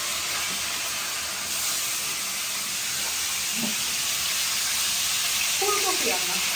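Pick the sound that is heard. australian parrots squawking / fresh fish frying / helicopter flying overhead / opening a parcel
fresh fish frying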